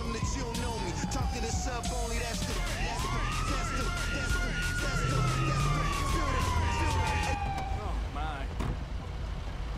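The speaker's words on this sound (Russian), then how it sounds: "Ух ты, пожарная машина, как круто." Fire truck siren in the GTA 5 video game, a loud wailing tone that falls, then rises and sweeps slowly across the clip over engine and traffic noise, with a voice talking faintly underneath.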